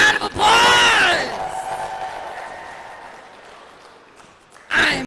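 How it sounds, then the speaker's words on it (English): Crowd at a live wrestling show bursts into cheering and applause, loud at first then fading into a long diminishing murmur before another burst at the end. "Let's give him a big round of applause!"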